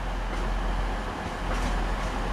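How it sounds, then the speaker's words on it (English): TransPennine Express unit 185139, a terminating service from Huddersfield, arriving at Manchester Piccadilly: a steady low diesel rumble and rolling rail noise, fairly close and continuous. "Coming in now is going to be terminating Transpennine Express service from Huddersfield."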